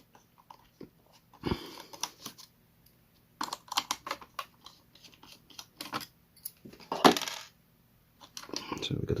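Irregular sharp clicks and cracks from a damaged, sticking gearbox being turned, scattered in short clusters with quiet gaps between them, fairly close.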